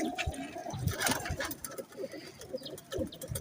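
A male pigeon coos in soft, repeated throaty calls, fairly close, with some faint background noise and no clear talking.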